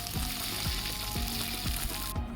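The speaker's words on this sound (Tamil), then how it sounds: "ஒரു 3 பச்சை மிளகா, ஒரு கொத்து கருவேப்பிலை இதெல்லாம் போட்டு நல்லா ஃப்ரை பண்ணிவிட்டு" Green chillies and curry leaves frying in oil for tamarind rice, a dense, loud sizzle with regular stirring scrapes roughly every half second, cutting off abruptly at the end.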